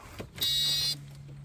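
A pump in a 1992 Volvo 460 turbo, probably the ABS unit, gives a short, high electric buzz lasting about half a second over a low steady hum, close by and fairly loud.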